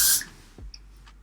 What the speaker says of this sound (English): I'm going to spray in my hairline.